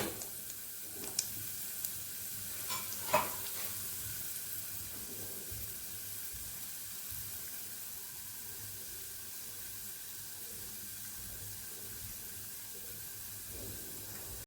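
Chana dal frying in a steel pan gives a faint, steady broadband hiss and sizzle throughout, with a few soft knocks near the start and no talking.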